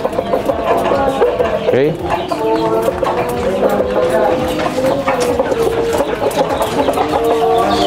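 Chickens cluck and call inside a coop, a busy overlapping flock heard close and fairly loud under a person talking.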